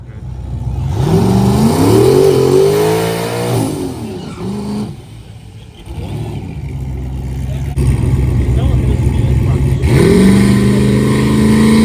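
Drag-racing truck making a short 60-foot test pass, its engine roaring loudly and climbing in pitch through several gear shifts, with a dip in level midway before a final surge.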